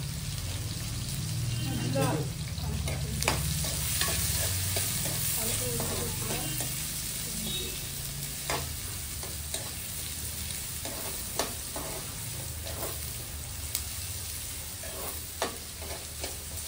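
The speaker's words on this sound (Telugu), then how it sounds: "ఆనియన్స్ కూడా మంచిగా ఫ్రై చేసుకోవాలి" Onions frying in a pan for boiled egg curry, a steady close sizzle with scraping stir strokes throughout and a low hum underneath.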